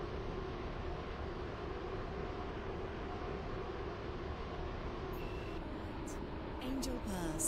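A train runs steadily in the Roblox game Stepford County Railway, giving a continuous, even rumble with no breaks, and faint tonal touches come in toward the end.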